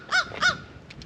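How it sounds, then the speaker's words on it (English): Crows caw twice in loud, close succession outdoors at a rain-soaked campsite after a stormy night, followed by fainter, brief calls further off. "listen to the crows squawk at me."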